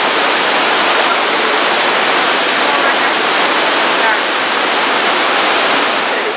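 Loud, constant roar of Victoria Falls nearby, a dense rushing wash of water with no letup.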